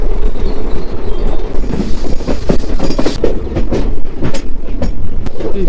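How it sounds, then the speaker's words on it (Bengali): Train pulling out of a station on the Haridwar to Dehradun line, loud steady rumble with rhythmic clattering of wheels over rail joints and occasional squeals, heard from on board. "ট্রেন কিন্তু একদম এক্সাক্ট টাইমে ছেড়ে দিয়েছে।"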